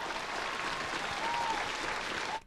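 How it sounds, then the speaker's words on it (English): Dense, steady applause from a small group fills a short stretch on a podcast set, then cuts off abruptly at the end. "I want to give a round of applause."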